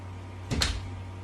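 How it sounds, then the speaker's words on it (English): A home door lock turns once, a quick soft mechanical clunk with a faint click, alone against a low steady room hum. "I'm gonna lock my door just to be careful."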